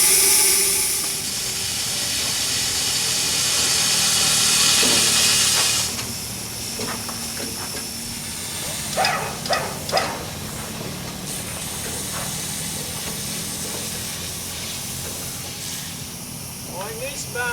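The safety valves on a steam train's boiler hiss in a loud, broad roar that eases off after a few seconds to a steady hiss. Voices talk over it at times, with some clanking in the background.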